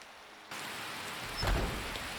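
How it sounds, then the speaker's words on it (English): Steady hiss of video game rain starts abruptly and continues evenly, with a soft swell of heavier patter midway; no voices. "And it is raining."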